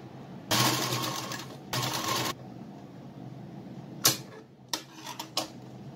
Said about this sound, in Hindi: स्टिच करके इस तरीके से पूरी पर सिलाई लगा देंगे।